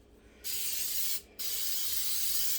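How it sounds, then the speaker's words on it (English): Two steady hissing bursts from an aerosol coconut oil cooking spray, a short one then a longer one, close and clear with no talking. "I'm just going to give this a quick spray with some coconut oil."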